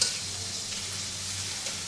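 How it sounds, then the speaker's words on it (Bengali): Ginger garlic paste frying in a pan with onions and spices, a steady soft sizzle with a low hum underneath and faint stirring scrapes, heard alone at an even level. "এখানে আদা রসুন বাটা দিয়ে দেন।"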